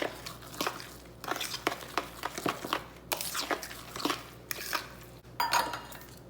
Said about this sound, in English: I'm gonna go ahead and mix that together